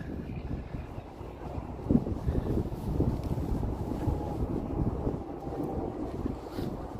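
Winter wind gusting along the Toronto lakeshore, a steady low roar of buffeting across the microphone with rumbling surges, heard alone at moderate level.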